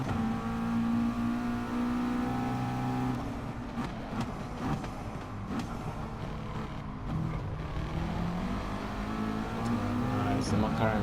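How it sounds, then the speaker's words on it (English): In the GT Sport racing game, a McLaren race car accelerates hard out of a corner, its engine rising and shifting through the gears in a steady loud roar, with someone commentating over it. "The McLaren was really good out of that corner."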